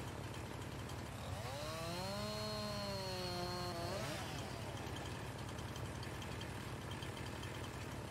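A chainsaw in Farming Simulator 19 drones steadily throughout, faint and distant, with a brief wavering tonal rise and fall in the middle of the steady engine noise.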